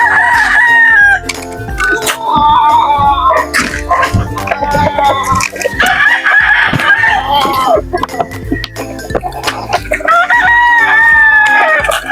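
Texas gamefowl roosters crow loudly and repeatedly while hens cluck and squawk close by in a busy farmyard chorus.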